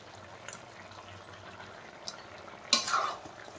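Chicken pieces coated in red chili, coriander, cumin and turmeric powders are stirred and fried in a pan for a chicken kasha. A quiet, steady sizzle runs throughout, with one louder scraping stir near the end.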